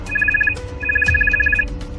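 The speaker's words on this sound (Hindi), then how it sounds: "सीमा का फोन फिर बजने लगता है।" A mobile phone rings with a bright, steady electronic tone in two rapid pulsing bursts separated by a short pause, fairly loud and close, with no voices.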